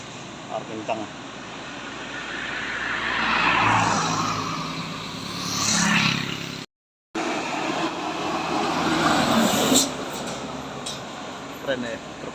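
A truck passing on a road near Medan, its engine and tyre roar rising and falling in two broad sweeps with a brief dropout midway, while a voice talks over parts of it.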